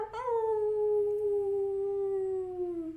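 A person imitates a wolf howl at the close of a guided team meditation: one long, sustained vocal howl that slowly falls in pitch, close and clear, with no other talking.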